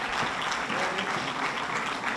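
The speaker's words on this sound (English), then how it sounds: "give her one more round of applause as well." Audience applause at a police department annual awards ceremony, a steady dense wash of clapping throughout, fairly even in loudness with no voices standing out.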